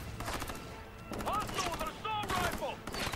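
Rapid bursts of gunfire in the video game Ghost Recon: Future Soldier, sharp repeated shots in quick clusters with brief vocal sounds mixed in, fairly faint overall.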